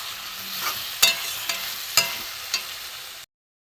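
Spoon strokes scrape through 500 grams of ridge gourd frying with spices in a hot pan, a steady close sizzle punctuated by several sharp clinks before cutting off.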